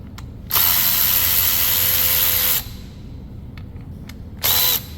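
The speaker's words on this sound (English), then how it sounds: "let me get that unbolted and let's get that switched over" A power tool whirs loudly while unbolting a valve body connector on a 2013 Ford Escape, with one long burst of about two seconds, a pause with faint clicks, then a short second burst, close up.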